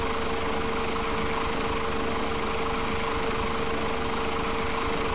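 Steady, continuous helicopter rotor and engine drone from a Microsoft Flight Simulator X flight near the Golden Gate Bridge, a constant mechanical hum and whine with no changes in level and no talking.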